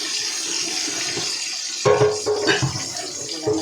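Tap water runs into a kitchen sink while used dishes are washed, a steady hiss that turns splashier and clattery partway through, close and fairly loud with no talking.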